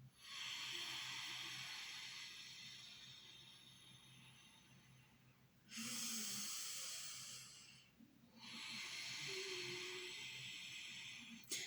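Slow ujjayi pranayama breathing, long constricted exhales with a soft hissing, throaty rasp like air leaking from a tire, close and steady, several drawn-out breaths separated by brief pauses, with no talking.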